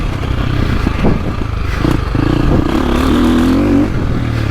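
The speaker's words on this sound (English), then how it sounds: "You just got to rev it a little more. Doesn't have quite that bark like the 450s down low, but this engine's got more bark than they used to." A 2025 KTM 350 XCF dirt bike engine revs up close, its loud throttle blips climbing in pitch and holding a steady high whine near the end.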